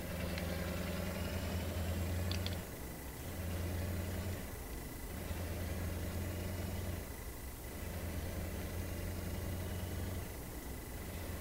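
A heavy truck engine idles in Euro Truck Simulator 2, a steady low rumble with harmonic drone that holds throughout, briefly dipping a few times, with a faint high whine above and no talking.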